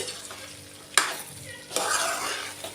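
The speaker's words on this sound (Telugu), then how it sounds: "చికెన్ కొంచెం డ్రై రోస్ట్ అయ్యే వరకు మంచిగా ఫ్రై చేసుకున్నాక" Chicken frying in separated oil with masala as it is stirred and tossed, a loud sizzling wash broken by sharp clanks of the utensil against the pan, with no voices.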